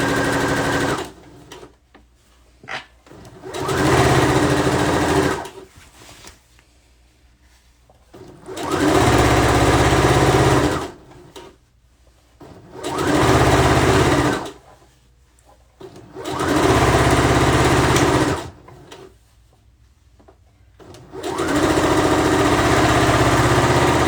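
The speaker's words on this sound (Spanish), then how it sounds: "Rematamos un poquito y cosemos. Aquí seguimos cosiendo." A sewing machine stitches a pillowcase in five steady whirring bursts, each a few seconds long, separated by quiet pauses while the fabric is repositioned.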